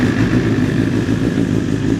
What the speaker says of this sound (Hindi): जब इसको मैं सेल्फ स्टार्ट देता हूँ ना तो एक आवाज़ आती है अलग सी